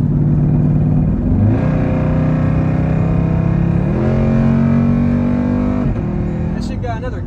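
A Dodge Durango SRT engine pulls hard under acceleration, a steady loud drone climbing in pitch through the gears with a brief dip at each shift, heard from inside the cabin.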